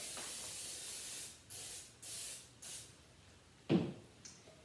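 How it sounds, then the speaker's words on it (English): Several short hissing bursts of cooking spray onto a baking pan, close by, separated by brief pauses, followed by a soft clunk. "first what we're going to do is you're going to spray it."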